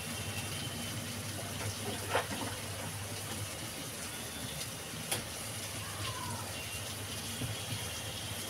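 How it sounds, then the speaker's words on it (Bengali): Water poured into a pan of taro and fish curry in a home kitchen, a steady broadband gush running without a break at moderate level, with a few faint clinks over it. "আমি এবার জল দিয়ে দেবো, জলটা দিয়ে দেবো।"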